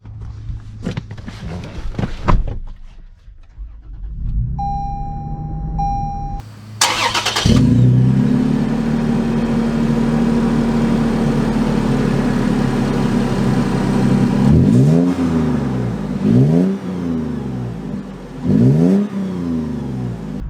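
2022 Toyota 4Runner TRD Pro engine starting up with a short electronic chime, then idling steadily and revving hard several times in rising and falling sweeps, loud and close from inside the cabin.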